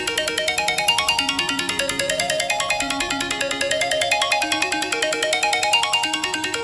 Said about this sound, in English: I like minimalistic kind of ringtones like this